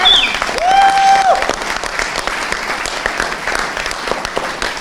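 Audience applause after a stage performance, a steady burst of many hands clapping throughout, with a brief whistle-like tone early on.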